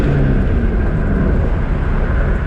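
A loud, steady engine drone fills the cabin of a fourth-generation Camaro SS, rising slightly as the car accelerates in third gear, with road rumble underneath.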